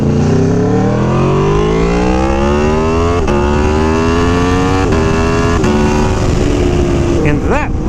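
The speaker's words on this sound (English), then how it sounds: "that would be the sound of a V4 pushing exhaust gases through an SC Project CRT exhaust" A V4 motorcycle engine fitted with an SC Project CRT exhaust revs up close and loud, its pitch climbing steadily through the gears with brief breaks at each shift, and a voice speaks over it.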